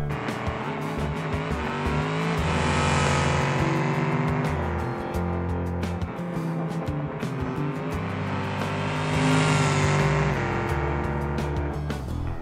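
Truck in the BeamNG video game making a drag run down a lane: a sustained engine roar that swells and eases twice, with whining tire squeal, loud and continuous, no talk.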